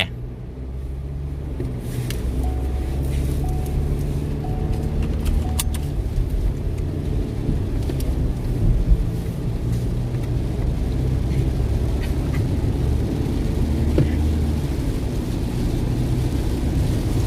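Steady low engine rumble and road noise from inside a moving car at speed, loud and continuous with a few faint clicks and no talking.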